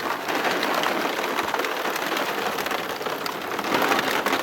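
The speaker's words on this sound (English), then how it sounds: "Coming down pretty hard right now, the rain." Heavy rain pours down during a UTV ride on the Arapeen Trail, a dense, loud, steady hiss of drops that stays constant from start to finish with no voices.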